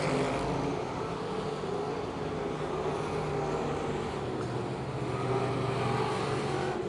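Race cars at Pittsburgh's Pennsylvania Motor Speedway roaring down the back straightaway, a continuous engine drone heard from a distance, steady and fairly even throughout.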